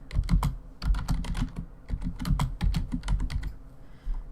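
Steady typing on a computer keyboard, heard close up, with quick bursts of clacking keystrokes, brief pauses and no talking.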